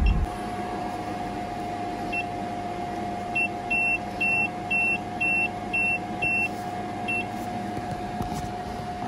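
A lid closes on a resin-print curing station and the unit is set running. A thud comes first, then a steady hum with a sustained tone, and a series of short, evenly spaced electronic beeps follows in the middle.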